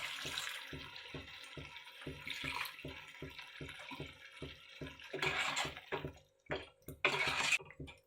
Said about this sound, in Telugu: కొద్దిగా నీళ్ళు వేసుకున్నామండి.